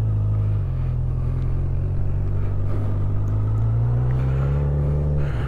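A 2021 Honda CB1000R Black Edition motorcycle pulls away, its deep, continuous engine rumble loud and close, with the pitch climbing slightly as it accelerates and no voices over it.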